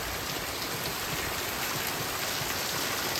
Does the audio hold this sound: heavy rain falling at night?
yes